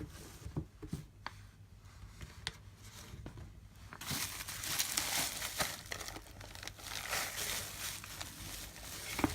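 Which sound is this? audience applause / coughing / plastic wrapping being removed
plastic wrapping being removed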